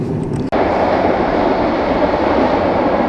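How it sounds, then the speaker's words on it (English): A train passes close by near a Scottish beach, a loud, steady rumbling roar with rail clatter that fills the whole stretch after a brief cut. "It's a train."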